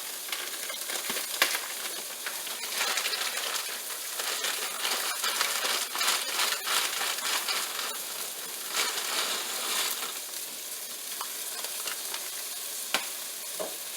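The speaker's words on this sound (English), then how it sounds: "my water's boiling, so I'm going to drop my pasta." Water hisses and bubbles steadily at a rolling boil as dry pasta is dropped in, with a dense crackling wash and a brief clink near the end.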